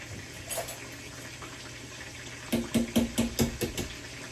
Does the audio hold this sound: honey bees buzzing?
no